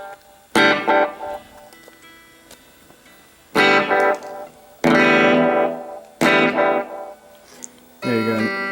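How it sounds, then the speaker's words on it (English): Electric guitar played through a Line 6 Micro Spider solid-state amp with its tape echo effect, several separate strummed chords each trailing off into echoing repeats, with gaps between them. "Here's tape echo, which is just like regular echo, which is like delay pretty much."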